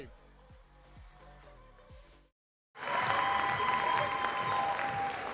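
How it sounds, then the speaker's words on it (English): A crowd at a weightlifting award ceremony breaks into loud, sustained applause after a short gap of silence, preceded by music with a plucked, rhythmic beat. "can we get a big, huge round of applause for these amazing lifters?"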